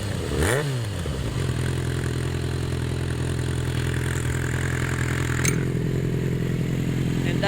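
A motorcycle running with its exhaust cap removed, a loud close steady idle with a deep throbbing drone throughout, a brief rev blip at the start and a sharp clank midway.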